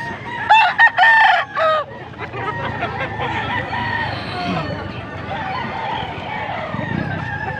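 Several roosters crow in quick succession up close, followed by a busy farmyard din of clucking and mixed bird calls.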